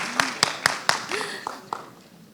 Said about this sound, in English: So we will just honor them with a hand clap.